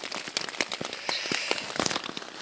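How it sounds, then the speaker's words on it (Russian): Steady rain falls during a river rafting trip on the Seleta River, a dense, close patter of drops hitting surfaces throughout, with nobody talking. "дождь идет уже фиг знает сколько времени"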